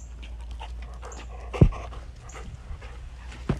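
A dog pants softly and steadily nearby, with a sharp knock or thump partway through and another faint one near the end, no voices.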